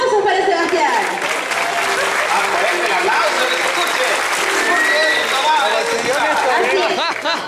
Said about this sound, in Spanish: Muy bien, aplausos para Sebastián.